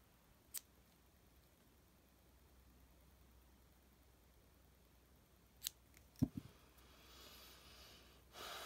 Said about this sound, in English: And then you can cut those ends.